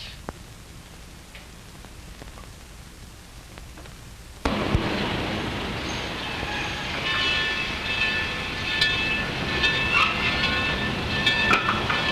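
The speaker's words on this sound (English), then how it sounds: "that's the last train to Reno" A train heading for Reno is heard on its rails. A quiet stretch gives way to a sudden loud, sustained rumble with rattling and metallic clatter and high squealing tones, close and continuous to the end.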